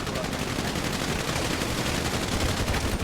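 Dense, continuous video game gunfire from a war-style multiplayer match, a steady loud barrage of overlapping shots and automatic bursts that runs unbroken for a few seconds with no pause.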